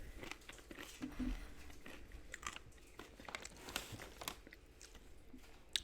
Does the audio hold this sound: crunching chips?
yes